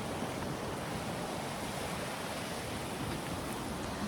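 A river in Kananaskis rushes steadily, a constant broadband wash of flowing water close by with no talk over it.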